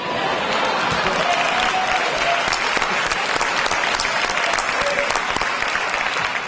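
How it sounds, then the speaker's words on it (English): Loud, sustained applause from an awards show audience honoring Reverend Al Sharpton, a dense wash of clapping that stays steady throughout with no talk on top. "A special round of applause, not only for what he's done in the community"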